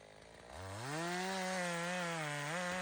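Stihl chainsaw revving up in the taiga, starting after a quiet moment and rising into a loud, steady engine whine that holds with slight pitch wobbles as it works into wood.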